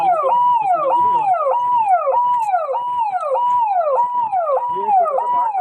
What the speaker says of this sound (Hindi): आप देख सकते हैं कि जैसे एम्बुलेंस आ रही है